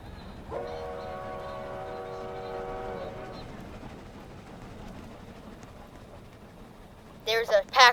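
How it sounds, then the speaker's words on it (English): A train horn in the Dead Rails video game sounds as a steady, loud multi-tone blast lasting a few seconds over rumbling game noise, with a speaking voice and brief sharp cries near the end. "I attempt to honk the horn."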